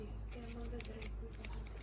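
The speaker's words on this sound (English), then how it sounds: "let me cut it with scissors" Scissors snipping through the plastic and cardboard packaging of a Sylvanian Families cabin house toy: a series of quick, close crisp cuts, with a voice speaking over them.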